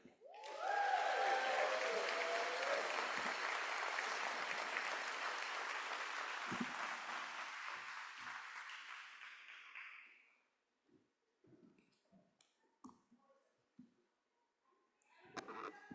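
Audience applauding at a San Francisco State University Department of Counseling graduation ceremony, a loud sustained burst of clapping that swells at once, holds for about ten seconds, then tapers off, leaving a few scattered claps and small noises.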